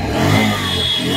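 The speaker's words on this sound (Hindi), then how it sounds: "तो फ्रेंड्स बाइक तो स्टार्ट हो गया है" A Bajaj Pulsar BS6 motorcycle engine, running after an ECM replacement, revs up once with a loud, close roar and settles back to a steady mid-pitched drone.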